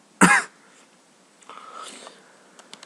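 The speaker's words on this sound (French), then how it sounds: "Je pense que j'ai encore un peu toussé là." A single sharp cough bursts out up close, followed by quieter rustling and a few faint clicks.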